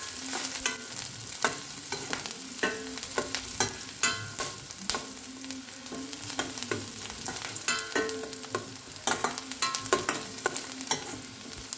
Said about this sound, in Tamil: வெங்காயம் பச்சை மிளகாயை நல்லா வதக்கி அதில் இந்த கீரையையும் போட்டு நல்லா வதக்க போகிறோம்.